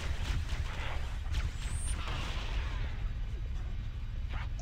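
A grenade detonates in Halo CE, a muffled low boom with rumbling debris that fades over a few seconds, fairly faint and under no clear talk.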